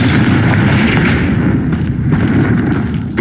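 Confringo blast spell in the Hogwarts Legacy video game, a loud, dense explosive roar that fills the whole clip with heavy low rumble and crackling debris.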